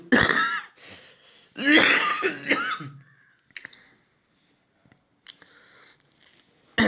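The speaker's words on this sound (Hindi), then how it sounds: "थोड़ा सा खांसी हो गया" A man coughs and clears his throat in a few harsh, close bursts, followed by near silence with faint small clicks.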